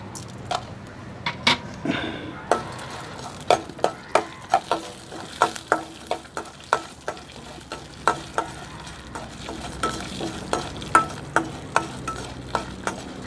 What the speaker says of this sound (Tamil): இந்த சிறிதளவு இந்த சமையல் எண்ணெய் வந்து சேர்த்து நம்ம வந்து இந்த சட்னிக்கு தேவையான இந்த வரமிளகா, உளுத்தம்பருப்பை வந்து பொன்னிறமாக வந்து வறுத்துக்கிறோம்